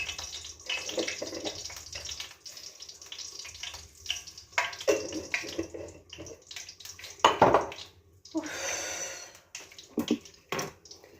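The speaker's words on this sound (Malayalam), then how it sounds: "എണ്ണ ചൂടായിട്ടുണ്ട്, കടുകിട്ട് കൊടുക്കാം" Mustard seeds tipped into hot oil for a kuzhavali fish dish, giving faint, scattered crackling pops and a soft sizzle that come and go, quiet and close.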